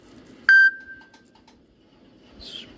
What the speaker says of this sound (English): Apologies for the beep there, that's probably jumped up on your notifications.